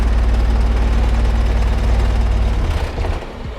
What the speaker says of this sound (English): If we want to turn on the car, we need to press the start button like this.